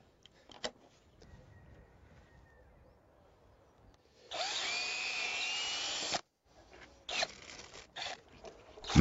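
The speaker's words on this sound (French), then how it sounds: "Au milieu de chaque poteau, il fore un trou et fixe la solive au poteau." A power drill bores a hole into a wooden pergola post, a loud, steady whirring burst of about two seconds, followed by a shorter second burst and scattered handling clatter.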